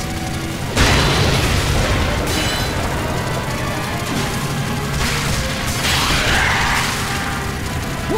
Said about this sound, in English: Shoot down the axes!